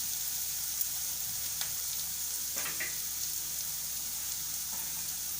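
Poppy seeds and ginger garlic paste fry in hot oil for a dal, giving a soft, steady sizzle with a few faint crackles and a light scrape, close by and otherwise quiet.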